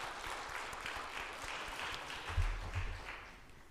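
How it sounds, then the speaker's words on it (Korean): Soft, steady clapping from a church congregation welcoming the pastor at a Sunday afternoon service, heard at a distance for the whole stretch with a couple of low thumps near the end. "우리 목사님 나오실 때 격려의 박수로"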